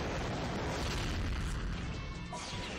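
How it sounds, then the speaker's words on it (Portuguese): A booming explosion attack in the video game Mega Man X7 rumbles as a dense, continuous roar of blast noise filling the whole stretch at steady loudness, with no talk over it. "Esse ataque da explosão aqui é massa."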